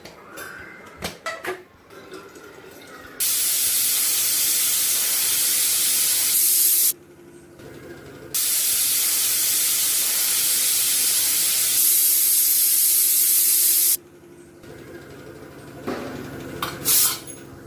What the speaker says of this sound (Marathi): कुकरच्या 2 ते 3 शिट्ट्या घ्यायच्या आहेत